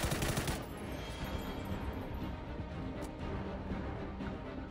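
Rapid automatic gunfire in the video game PUBG, fired at training targets, with a dense burst at the start and fainter shots and crackle continuing behind it.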